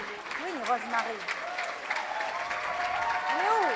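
An audience applauds at a school year-end graduation ceremony, a steady wash of clapping from many hands in a hall, with a speaker's voice talking over the applause throughout.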